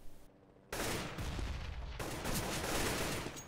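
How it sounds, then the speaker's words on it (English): Rapid gunfire in a Counter-Strike match, a LDLC White versus CPLAY esports game, bursting in loudly after a brief quieter moment and continuing as sustained, dense shooting to the end. "Headshot from Zanzir."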